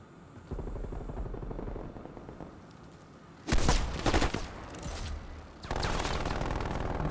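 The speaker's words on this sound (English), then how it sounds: "There's a sentry gun." Bursts of automatic gunfire from a sentry gun in a first-person shooter, loud continuous rattling volleys that stop and start, with a brief lull before another sustained burst.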